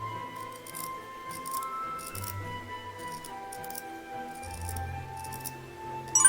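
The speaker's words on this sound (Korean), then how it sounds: "곡선 부분에 가위집을 넣어줍니다" Scissors snip into the curved seam allowance of a flat-collar dog dress made of fabric, giving a series of small, close cuts over a steady background with low tones.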